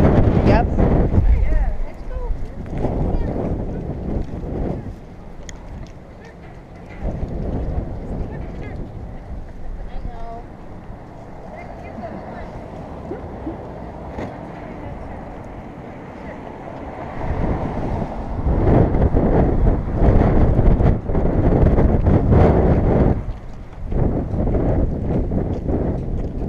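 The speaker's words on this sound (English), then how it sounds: "The wind is getting stronger." Strong wind buffets a boat out on the water, a loud, steady roar with gusts that swell near the start and again toward the end, while people talk at times underneath.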